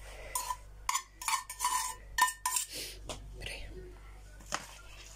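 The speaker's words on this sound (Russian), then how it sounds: "И также все перемешиваем" A spoon stirs salad ingredients and chopped egg in a bowl, giving a series of soft clinks and scrapes at an uneven rhythm while a quiet voice talks over them.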